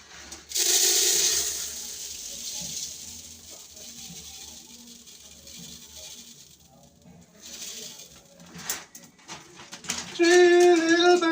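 Rice washed in water in a home kitchen for Jamaican rice and peas: a loud rushing gush of running water at first, then quieter sloshing and swishing, ending with background music-like tones.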